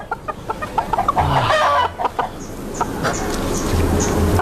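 Chickens clucking close by, with several short repeated clucks and squawks over farmyard background noise.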